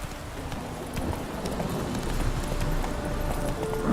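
Hooves of a horse galloping in the Witcher 3 video game, a steady clip-clop rhythm running throughout at moderate level over a busy game soundscape, with no talking.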